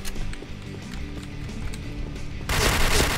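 Gunfire in an online shooter video game crackles in rapid bursts over busy game noise, with one loud, dense volley near the end.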